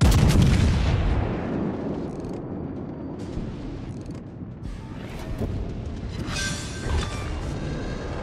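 Heavy battleship main guns fire in World of Warships: Legends, a loud opening salvo with a long rumbling decay, followed by scattered mechanical creaks and smaller distant blasts.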